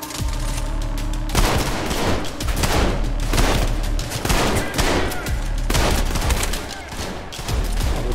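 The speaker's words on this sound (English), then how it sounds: "No aiming button, if you're wondering. I'm only hip firing." In the fast first-person shooter Trepang2, hip-fired gunfire rattles out in loud, dense automatic bursts, broken by short pauses and heavy impacts, with a voice speaking over the shooting at times.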